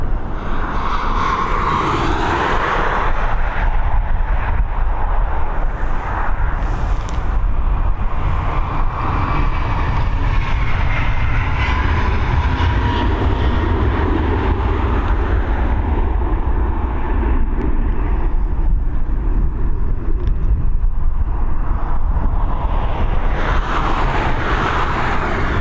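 An Airbus A321neo jet takes off from Dublin Airport, its engines a loud, broad roar that swells and holds for the full stretch, then thins as it climbs away.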